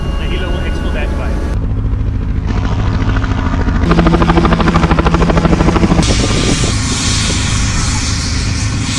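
A helicopter at a jungle landing zone during an airsoft military simulation roars loud and close, its rotor chop pulsing steadily throughout.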